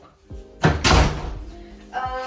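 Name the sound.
front door closing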